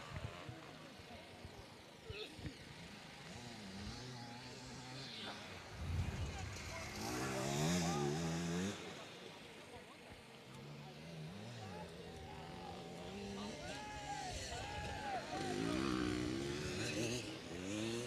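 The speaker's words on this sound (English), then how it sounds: "Super strong, throaty engine of the KTM." A KTM vintage enduro motorcycle at a FIM Enduro Vintage Trophy special stage, its strong, throaty engine revving and rising in pitch as it races past, loud and continuous beneath a commentator's voice.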